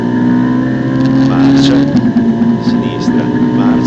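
A Ferrari 458 Italia engine at full throttle on the Monza circuit, a loud, sustained high-pitched roar with a steady tone and an Italian voice talking over it.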